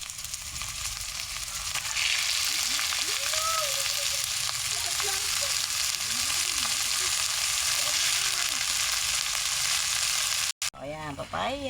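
Sliced onion fries in a pan with a loud, continuous sizzle and crackle heard up close, while a few voices talk briefly over it.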